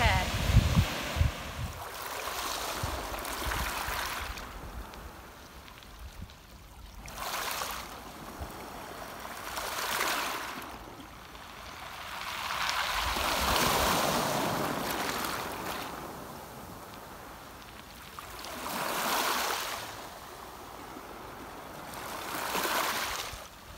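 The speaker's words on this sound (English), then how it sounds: "It's been so lovely to share these beautiful waves with you all." Ocean waves break on a beach at dawn, surging and washing in a slow rhythm every few seconds, with steady surf and wind noise between the crests at a moderate distance.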